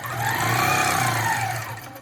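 A longarm quilting machine stitches free-motion and ruler work on a quilt, giving a steady, close mechanical whir with a fast needle rhythm that swells and then tapers off toward the end.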